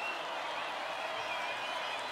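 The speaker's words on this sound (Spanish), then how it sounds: "Que se escuche fuerte ese aplauso." Carnival audience applause, a dense, even roar of clapping from a crowd that continues steadily for a couple of seconds without a break.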